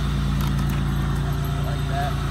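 A 1990 Oldsmobile Cutlass Supreme's 3.1-liter engine idles after a cold start through a single Thrush turbo muffler, giving a loud, steady, pulsing exhaust rumble close by with a voice talking over it.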